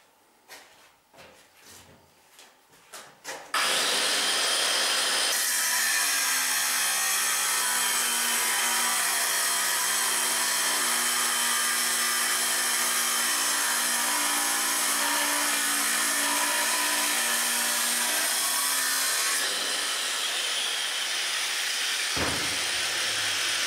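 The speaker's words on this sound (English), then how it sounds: "So now that the angle grinder is in working condition again" A repaired angle grinder, its switch rewired, runs loud and steady for about twenty seconds after a few clicks and bumps, then winds down near the end.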